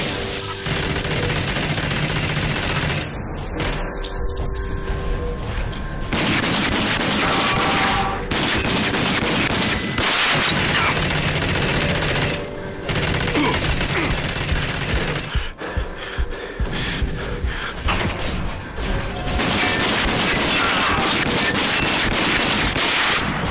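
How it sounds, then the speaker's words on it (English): An enemy in the video game Rage fires a minigun in long, loud, continuous bursts, each a dense roar of rapid fire, broken by short pauses and repeating for over twenty seconds. "He's got a minigun."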